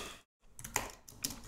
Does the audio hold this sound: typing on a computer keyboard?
yes